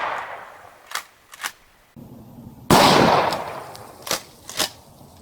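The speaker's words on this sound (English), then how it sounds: "So here goes shot number 2 from 20 feet." A 12 gauge shotgun loaded with Estate 00 buckshot fires one loud, sharp blast outdoors, with a long rolling echo after it. A few smaller clicks and knocks come before and after the shot.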